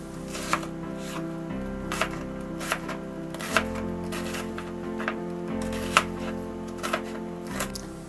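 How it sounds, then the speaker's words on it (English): A knife chops half a white onion into small pieces on a board, a steady run of sharp, close taps, some louder than others, over a faint background with no talk. "So start with half a white onion. Cut that into small pieces."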